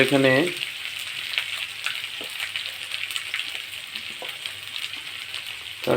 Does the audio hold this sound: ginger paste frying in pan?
yes